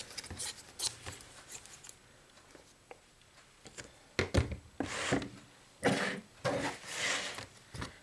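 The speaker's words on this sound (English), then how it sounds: "I'm just going to quick cut around these with my scissors." Scissors snip and rasp through fabric around a finished cross-stitch piece in close, irregular bursts, some cuts quick and crisp, others longer and scratchier, with no voices.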